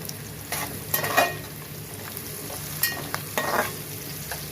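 Salted onion slices fry in a pan, a steady close sizzle broken by a few louder bursts as they are stirred, with no talking.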